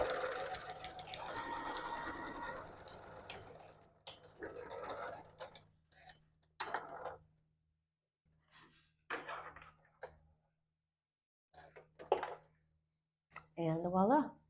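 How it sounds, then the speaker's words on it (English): A sewing machine runs a steady stitching burst up the collar of a quilted coat, close and fairly quiet, then stops as a person talks over the remaining quiet moments. "I'm just going to pivot and just sew all the way up the collar."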